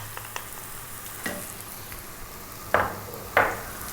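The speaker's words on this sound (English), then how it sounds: "Stay on this high heat stirring all the time for 2 minutes." Pork ribs stir-frying on high heat in ketchup, soy and oyster sauce, a steady sizzle broken by a few sharp scrapes and clatters of stirring against the pan.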